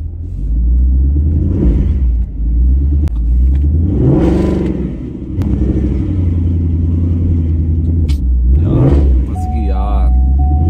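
A Ford Mustang stuck in snow revs its engine again and again, with a deep continuous rumble that swells and falls in repeated pulls, while people talk over it.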